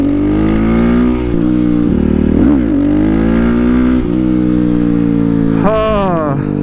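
Supermoto motorcycle accelerating at speed, a loud close engine climbing steadily through the gears with a brief shift dip and a rising rev near the end.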